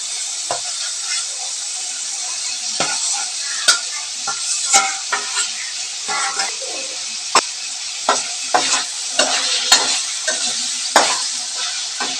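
Brinjal, fried green chilies and tomatoes being stirred in a hot pan, with a steady sizzle of frying throughout and repeated spoon scrapes and clacks against the pan, close and fairly loud with no talking.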